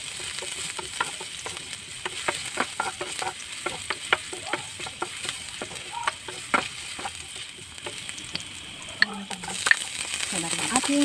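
Ginger and spices sautéing in a large pan crackle and sizzle steadily up close, broken by repeated sharp clicks and scrapes of a spatula stirring against the metal.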